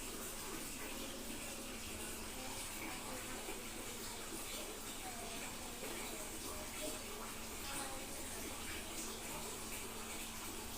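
Water pouring steadily into a washing machine with a leak problem, a continuous close rushing and gurgling flow that holds even throughout.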